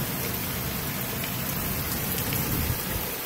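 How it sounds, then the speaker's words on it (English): Steady heavy rain pours down, a dense continuous hiss of drops hitting surfaces with no voices. "It's been raining here like every day for like on and on"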